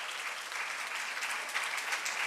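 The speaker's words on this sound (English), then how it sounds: "I request everyone to give a round of applause to Dr. Rupashri Shenoy." Steady applause from an audience at a college inauguration ceremony, a dense wash of clapping hands that holds evenly for a couple of seconds with no talking.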